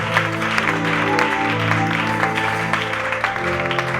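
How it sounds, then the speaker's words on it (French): Church congregation at a French-language service with Pastor Joel Kabwe applauding and cheering, dense continuous clapping with sustained voices and music tones underneath, fairly loud and close. "Est-ce qu'on peut bien acclamer?"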